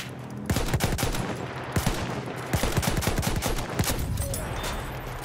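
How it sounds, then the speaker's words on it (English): Rapid gunfire during an online Conquest match on the Giant's Shadow map in Battlefield 1: loud, dense cracks in quick bursts, overlapping shots and sharp impacts filling the whole stretch, with no talk. "No, I'm getting shot at!"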